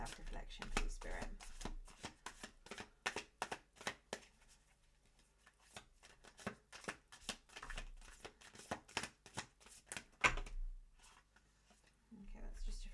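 Tarot cards shuffled and drawn in quick bursts of crisp riffling and slapping, close and fairly quiet, with a voice talking between the bursts.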